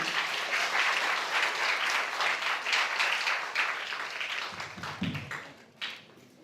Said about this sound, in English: Please give applause, everyone.